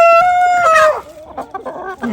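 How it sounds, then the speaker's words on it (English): A rooster crowing close and loud, one long sustained call that breaks off after about a second, followed by softer clucks and farmyard sounds. "He is a rooster."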